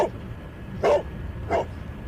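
A dog named Toby in a Sherlock Holmes video game gives two short, close barks about three quarters of a second apart, with a low steady background hum and no talking.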